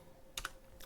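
A computer keyboard being typed on while a network route is entered for an OpenVPN connection: a few quick, light keystroke clicks in a short burst, then one more faint tap, close by in a quiet room.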